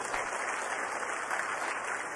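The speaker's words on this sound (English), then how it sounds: "Let us give a big round of applause to the entire team." Continuous applause from a crowd after ISRO's SSLV-D3 rocket launch, an even wash of clapping at moderate level with no pauses.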